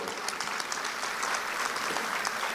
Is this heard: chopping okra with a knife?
no